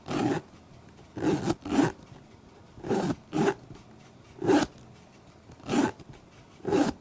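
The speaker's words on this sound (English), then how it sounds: "I really like how smooth these zippers are" A silver zipper on handmade horse leather boots is run up and down repeatedly, each pass a short close rasping zip, coming in quick pairs and single strokes with brief pauses between, no talking.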